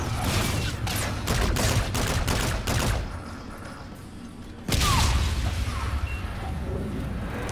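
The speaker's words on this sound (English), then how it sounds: "they're shooting at me" Rapid bursts of enemy automatic gunfire in the Call of Duty: Infinite Warfare video game, loud and close, crackling in dense volleys for about three seconds, easing briefly, then a second heavy barrage erupts and keeps going.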